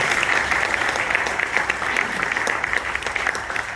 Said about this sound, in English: How about a round of applause for our chanters?